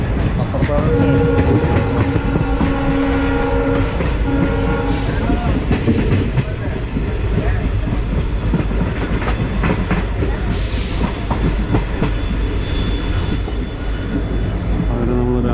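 A local train on the Madurai–Ramanathapuram line runs into Ramanathapuram railway station, giving a loud, continuous rumble with rhythmic wheel clatter on the rails and a brief horn, heard from on board.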